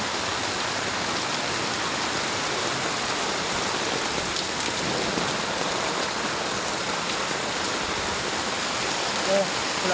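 Heavy rain pours steadily onto a flooded street, a dense unbroken hiss of downpour and running floodwater that stays loud and even throughout, with no pauses.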